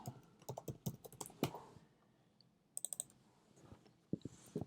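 Quick bursts of clicky keystrokes on a computer keyboard while typing Java code, close and crisp, with a short pause midway before a few more taps.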